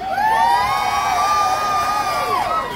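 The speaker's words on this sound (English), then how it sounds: "can we give a big cheer for Ian Bale" An outdoor crowd at a Shankill Christmas lights switch-on event cheers loudly, children's high shouts and whoops sustained throughout, dense and close.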